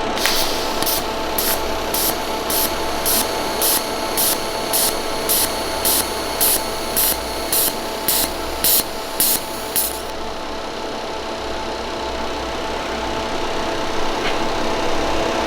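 TIG welding on a BMW 335d custom rear silencer: a steady close hiss with a rapid pulsing buzz for about ten seconds, then a continuous hiss alone.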